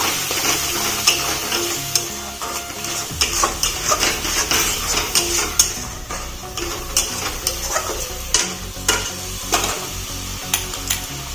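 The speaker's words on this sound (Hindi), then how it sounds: "आउ गोटे चम्मच धनिया पाउडर को भल भाव फ्राए करना" Coriander powder fries in a pan with a steady sizzle, broken by frequent sharp scrapes and clinks as a spoon stirs it.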